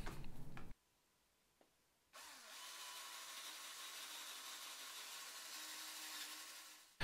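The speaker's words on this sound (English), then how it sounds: "So I'm just going to drill two holes, maybe an inch apart from the first hook hanger." A power drill bores into a wooden fishing lure, giving a steady whirring, grinding hum for about five seconds after a brief start-up, close and fairly quiet.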